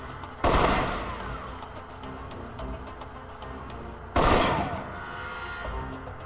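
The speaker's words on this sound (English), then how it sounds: "For long-range encounters, the assault rifle's the key. It's accurate, powerful." Assault rifle gunfire in the Alpha Protocol video game, heard as two loud, sharp bursts about four seconds apart, each trailing off, with quieter game ambience in between.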